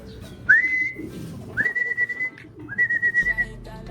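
A person whistles to train a pigeon, three sustained rising whistles, each held about a second, clear and close over faint background noise with soft fluttering or cooing between.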